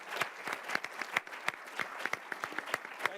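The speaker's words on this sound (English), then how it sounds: "Please give them a round of applause." Sparse applause from a conference audience for a panel of speakers, individual claps distinct and rhythmic rather than a dense roar, moderately close.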